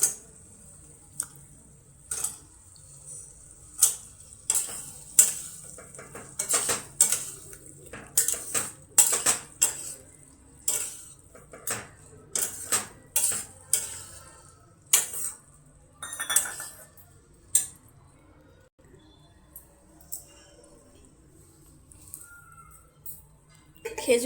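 A metal spoon clinks and scrapes against a cooking pan as soaked dates are added to a tomato chutney and stirred, a string of sharp, fairly quiet taps and knocks at an irregular pace, with a voice heard briefly.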